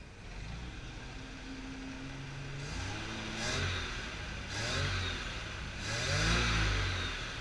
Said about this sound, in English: Let's give her a rev and let's see what's up.